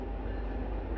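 A train rumbles past nearby in open country, a steady low heavy roll with no voices.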